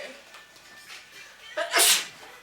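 A single sharp sneeze bursts out near the end, close and loud, after a brief quiet stretch.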